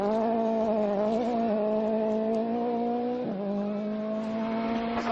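A WRC rally car on a worn-tyre run to the finish at Rally Argentina 2011, its engine droning loud and steady with a brief dip and recovery midway, held close throughout.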